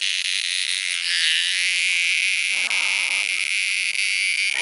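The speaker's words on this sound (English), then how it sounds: "Very noisy cicada." A loud, steady, high-pitched cicada drone from a cicada held in a man's mouth, continuous and close, with a slight wavering in intensity throughout.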